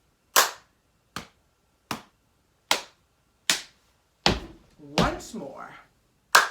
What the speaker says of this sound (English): Clap, hit, hit, thigh, thigh, stamp,